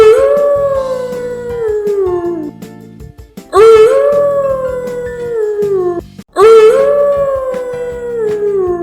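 A jackal in an animated folk story howls loudly three times in a row, each long wavering cry rising then sliding down, close and clear over a soft musical backing.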